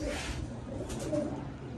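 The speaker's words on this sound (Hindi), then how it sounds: "ये भी अच्छा कबूतर है" Golden pigeons in a crowded pigeon market, cooing softly and continuously under a murmur of crowd noise.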